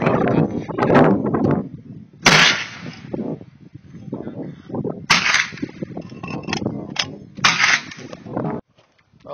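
Shots from an M14 rifle firing ball ammunition fed from a modified 20-round magazine at an outdoor range: a few sharp, loud cracks spaced seconds apart, with people talking throughout.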